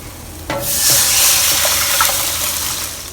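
Water is poured into rempah paste in a wok for Singapore mee siam, with a sudden splash and then a loud, steady sizzling rush as the mixture is stirred close by.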